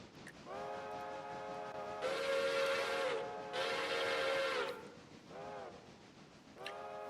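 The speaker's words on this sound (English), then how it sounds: "we're going to have lots of really short trains going with 1 car each" Video-game trains from a small-scale transportation build, each a single car, sound repeated steam-style whistles: two long loud blasts in the middle, with shorter tonal toots before and after over a steady running rumble.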